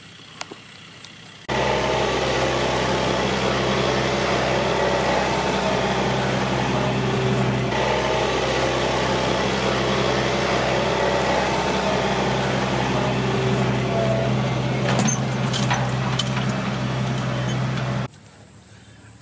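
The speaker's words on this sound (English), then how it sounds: "I'm gonna get on the tractor and fix it." A tractor engine on a ranch drones steadily and fairly loudly for about sixteen seconds, beginning and ending abruptly, with no talking.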